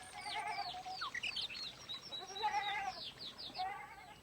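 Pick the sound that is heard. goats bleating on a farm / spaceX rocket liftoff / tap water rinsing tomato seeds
goats bleating on a farm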